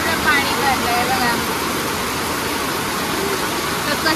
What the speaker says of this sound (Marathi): धो पाऊस. कोकणातला खूप पाऊस पडतोय.